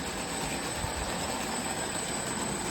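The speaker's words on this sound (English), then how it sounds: "if I move the throttle forward, those engines are going to take off." Two radio-controlled model engines bound to a single transmitter run together, giving a steady, continuous rolling rumble with a faint high whine. The sound stays even throughout, with no speech.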